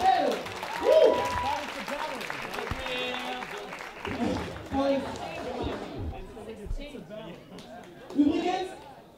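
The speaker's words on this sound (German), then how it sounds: "Applaus, Applaus, Applaus, ganz schnell!" Applause from a live audience at a dance cypher event, mixed with crowd chatter and voices throughout, swelling in bursts at moderate volume.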